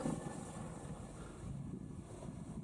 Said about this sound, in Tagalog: Grabe yung hangin ngayon.